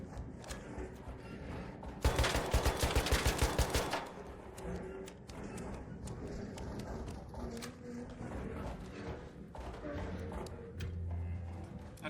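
Rapid gunfire from ARC Raiders rattles out in one dense burst lasting about two seconds, fairly loud against a quieter background of game ambience and mechanical noise.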